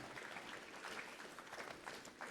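Parents applauding at a school awards ceremony, a steady, faint wash of clapping from a crowd heard at a distance and sustained for a couple of seconds.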